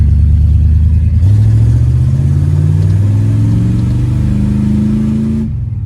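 A 1958 Ford Fairlane engine revs up loudly and close by, pitch climbing steadily as it accelerates, easing and rising again through gear changes.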